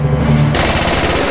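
Rapid machine-gun fire in the video game Mud and Blood, a loud, dense burst of shots that starts abruptly partway through and keeps up in a fast rattling stream.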